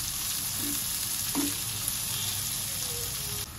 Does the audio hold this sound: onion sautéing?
yes